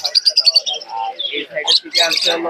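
Many small birds, doves at a pigeon market in Khulna, Bangladesh, chirp and twitter close by, a busy overlapping chorus of high calls with occasional softer notes.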